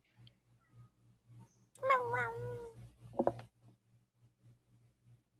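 A cat in a room gives a drawn-out wavering meow followed by a shorter second call, close and clear over a faint regular low thumping.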